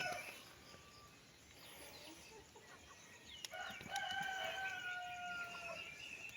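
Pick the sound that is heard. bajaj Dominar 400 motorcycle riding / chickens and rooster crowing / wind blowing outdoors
chickens and rooster crowing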